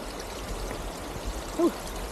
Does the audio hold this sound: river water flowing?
yes